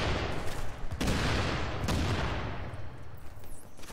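A deployed turret in a video game fires a steady, dense burst of rapid shots, loud and close, rolling on for several seconds before thinning out slightly toward the end.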